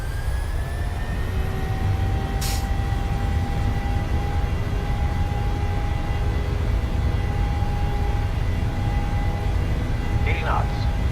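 Engines of a PMDG 737-700 spooling to takeoff thrust in Microsoft Flight Simulator, a loud steady roar with sustained whining tones and faint cockpit sounds, no voices.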